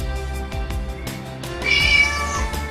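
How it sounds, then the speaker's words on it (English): A cat meows once, a rising, drawn-out cry near and clear after a few soft knocks and a low hum. "That's right, it's a cat."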